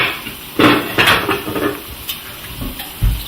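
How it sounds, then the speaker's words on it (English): A plate handled and set down in a home kitchen, with several clear clinks and knocks of dishware against a hard surface, close and fairly loud with no talking. "I take a plate."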